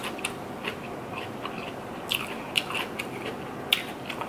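Close, quiet eating of rice, sausage and cucumber: several crisp bites and soft chewing crunches at uneven intervals, with no talk.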